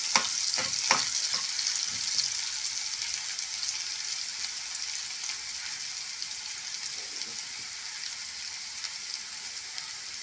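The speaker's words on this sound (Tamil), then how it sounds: "வெங்காயம் நல்லா வதங்கி வரட்டுங்க. நல்லா ப்ரௌன் கலர் ஆகிற வரைக்கும் வதக்கி விட்டுக்கோங்க." Chopped onion sautés in a pan for a raw banana pepper fry, with a steady close sizzle and a few stirring knocks near the start before the frying hiss settles in alone.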